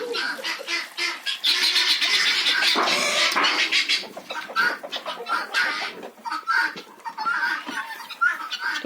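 Chickens and guinea fowl clucking steadily close by in a winter farmyard, a busy flock of calls overlapping continuously with occasional sharper squawks.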